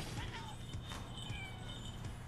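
A cat meows softly a few times in the video game Boyfriend Dungeon, faint and close, over a steady low background hum.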